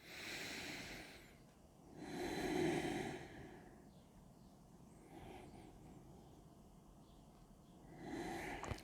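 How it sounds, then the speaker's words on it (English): Slow, deep breaths during a yoga stretch, each long airy inhale or exhale swelling and fading, close and fairly quiet, separated by near-silent pauses. "Take 2 deep breaths."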